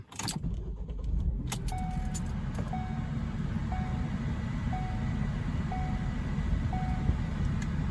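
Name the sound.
Ford Focus engine starting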